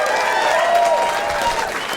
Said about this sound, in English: Give yourselves a nice big round of applause for coming out.